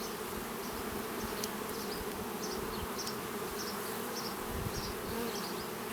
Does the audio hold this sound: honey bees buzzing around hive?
yes